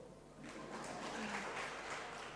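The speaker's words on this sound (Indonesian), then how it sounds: "Tepuk tangan dong." A church congregation during a Christian sermon breaks into a brief, soft round of applause, distant and faint, swelling after a moment and then fading.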